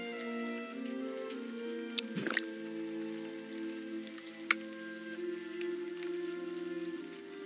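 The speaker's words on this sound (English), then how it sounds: "The rain shows no sign of stopping." Steady rain falls in the video game Pendragon, a soft patter over sustained musical tones, with a couple of sharp clicks and a brief swoosh breaking through.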